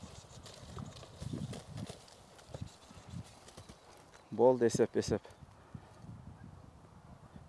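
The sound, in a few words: horse hooves clip-clopping as horse is turned around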